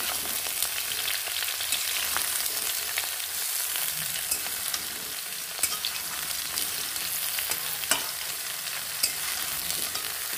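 Ridge gourd and pointed gourd sauté in a pan, giving a continuous bright sizzle with scattered pops and occasional stirring scrapes, close and steady for the whole stretch, no one speaking.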